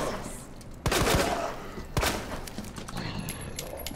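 Quick-draw gun firing in Resident Evil 2, two sharp loud shots about a second apart, each ringing briefly, over low background game ambience.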